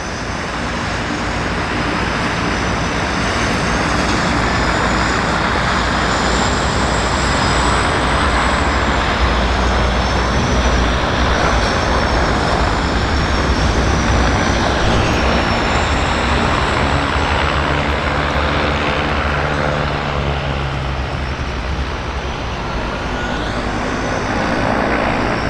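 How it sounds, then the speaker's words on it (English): A Twin Otter propeller plane pushes back and departs at Vancouver Harbour, a loud continuous engine and propeller drone with wavering high tones, steady and close throughout. "Twin Otter pushing back."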